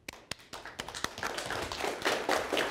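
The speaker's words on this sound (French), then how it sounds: "Une bonne main d'applaudissements pour Jean-François." A talk show studio audience applauding, starting with a few scattered claps that quickly swell into steady, dense applause close by.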